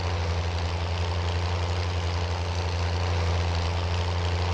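A tractor engine in Farming Simulator 19 labouring uphill, a steady low droning rumble with a constant hum, heard alone and close throughout.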